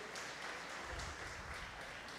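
A crowd applauds in a continuous, even patter of clapping that sounds somewhat distant and subdued.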